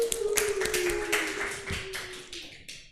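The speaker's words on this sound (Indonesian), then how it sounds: "aplaus buat Mbak Hani" Classroom applause for a student presenter during a microteaching session, a short burst of light, uneven hand claps from a small group that tapers off, with a faint tone lingering underneath.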